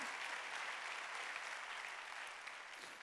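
A church congregation applauds at a Korean Wednesday worship service, a dense, steady wash of clapping from many hands that fills the room throughout.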